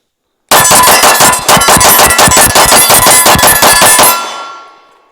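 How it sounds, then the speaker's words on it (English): Springfield Armory Prodigy pistol fired as fast as possible for 18 rounds, a loud, close, rapid string of sharp cracks with ringing metallic tone, ending in a fading echo. "I'm going to shoot as fast as I can. We're going to go ahead and do 18 rounds."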